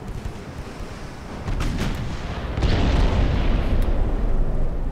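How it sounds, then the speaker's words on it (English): Warship naval guns firing high-explosive shells during a dreadnought battle in a naval combat video game: heavy booming bursts that step up in loudness, rumbling low and filling the scene with sustained thunder, no speech. "but we're also firing HE shells."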